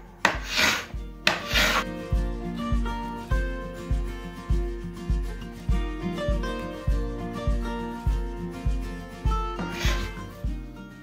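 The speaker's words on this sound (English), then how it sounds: "we're going to go ahead and use the carbide scraper" A carbide scraper strips the finish from a mid-century wooden chest in repeated rhythmic strokes, each a short rasping scrape, steady and close.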